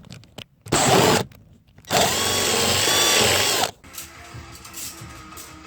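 A power drill bores holes for brake lines under a Fox/SN95 Mustang, whining loudly in two close bursts, a short one then a longer one, followed by quieter shop clatter.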